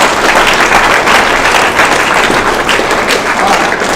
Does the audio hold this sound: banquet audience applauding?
yes